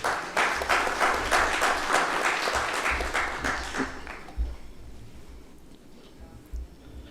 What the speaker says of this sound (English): please let's welcome Mr. Dutta with a big round of applause